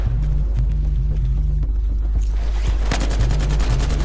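Sharp gunshots from the Battlefield Hardline beta, including sniper fire, crack over a steady low hum and game ambience, building into a rapid run of loud reports toward the end.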